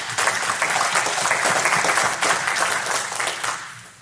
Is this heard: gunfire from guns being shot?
no